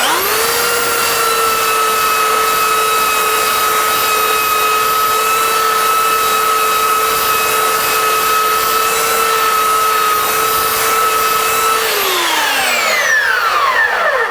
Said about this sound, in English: I just used on my skill sander, I think this is a 40 grit belt just to get most of the black off of there.